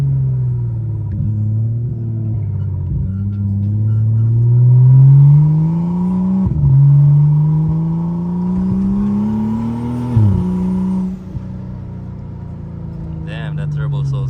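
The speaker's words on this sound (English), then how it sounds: "That turbo sounds good." A big-turbo BMW F10 535i on a night drive, engine droning and climbing through rising pulls with brief dips at each gear change, loud, steady and close inside the cabin.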